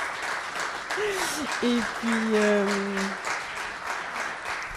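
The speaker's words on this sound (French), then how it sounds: "J'aimerais ça peut-être qu'on applaudisse les 4 participants de ce soir" An audience applauds the four participants of an evening talk, with a steady wash of clapping while a voice speaks briefly over it.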